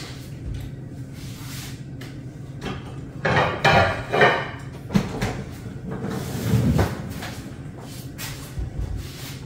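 Pans and metal cookware clanking and rattling as a pan is pulled from a kitchen cupboard, with a cluster of loud knocks and scrapes in the middle and softer clatter around it, no talking.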